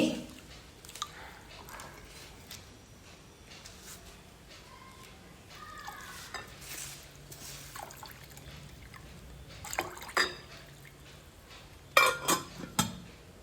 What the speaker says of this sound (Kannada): ಇದನ್ನು 2-3 ಬಾರಿ ನೀರಲ್ಲಿ ಚೆನ್ನಾಗಿ ತೊಳೆದು ನಂತರ ನೀರು ಹಾಕಿ ಮುಚ್ಚಳ ಮುಚ್ಚಿ